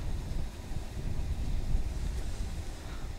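Strong wind buffets the microphone outdoors on open water while fishing, a continuous low roaring rumble with gusty swells and no other clear sounds.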